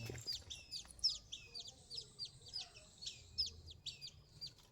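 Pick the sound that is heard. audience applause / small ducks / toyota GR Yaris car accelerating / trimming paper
small ducks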